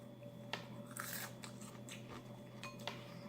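Roasted chapulines grasshoppers are crunched as a salty snack in Mexico, giving a few sharp, close, quiet crackling bites spaced out over a low steady hum, with no talking.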